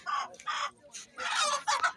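Chickens clucking close by at a livestock market in several quick, loud bursts separated by short pauses.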